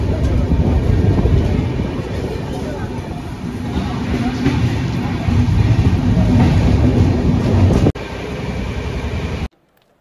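Passenger train on the Durg to Puri route rolling steadily along the rails in Chhattisgarh, a loud continuous rumble with rhythmic clatter close by, cutting off abruptly near the end.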